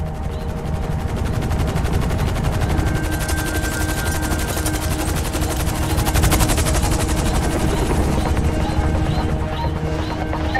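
Attack helicopters and heavy gunfire in the GTA 5 video game combine into a loud, continuous wall of rapid automatic bursts over a steady rotor roar, with no voices.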